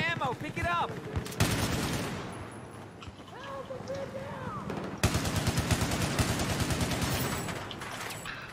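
An RPK machine gun fires in Battlefield 4 on the Wave Breaker map, with loud, rapid bursts of automatic fire separated by short pauses and mixed with other battlefield gunfire nearby.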